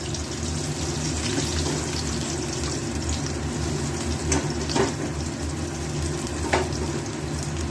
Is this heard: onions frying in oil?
yes